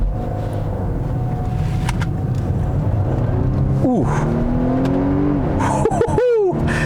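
A 2020 Volvo V60 Polestar wagon with its gas engine engaged in Polestar Engineered sport mode hums steadily, then rises in pitch twice as it accelerates, with an exclamation from inside the cabin.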